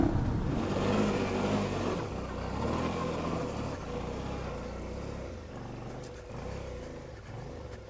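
Yamaha XT225 small lightweight motorcycle engine, a steady loud roar that rises and dips as the throttle is worked, held close throughout with wind rush and no talk.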